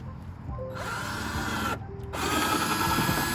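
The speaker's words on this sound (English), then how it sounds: "Nora, you wanna come and unscrew it" A power drill unscrews a screw on a car tail light in short close whirring bursts, with a brief pause between runs.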